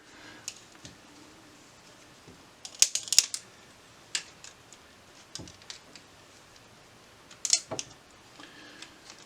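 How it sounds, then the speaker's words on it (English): Hand-turned pipe cutter biting into a gas line pipe, giving soft intermittent scraping clicks and small clustered ticks in a quiet room, near and faint, with pauses between turns. "And you're going to start hearing the actual cutting."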